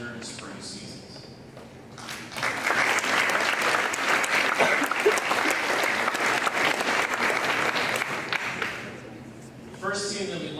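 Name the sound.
audience applause at a school board meeting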